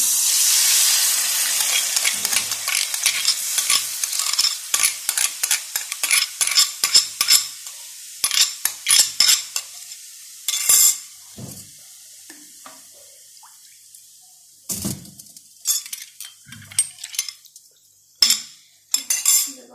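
A spoon stirs dissolved cornstarch mixed with water into a hot frying pan, giving a bright steady sizzle at first that gives way to a run of sharp metallic scrapes and clinks against the pan, spaced and irregular, with no talk.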